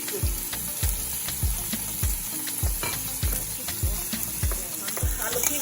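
Red snapper fish fries in a pan with yams nearby, a steady loud sizzle broken by regular rhythmic scraping thumps of stirring or spooning oil, close up.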